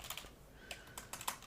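Typing on a computer keyboard, a handful of quiet, irregular key clicks close by with no talk.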